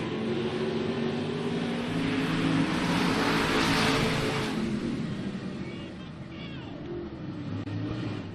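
Race cars roar down the back straightaway of an oval track after heavy contact among the leaders, a loud sustained engine drone that swells and fades without speech.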